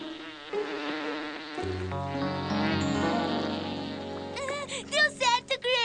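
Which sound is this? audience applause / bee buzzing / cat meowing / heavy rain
bee buzzing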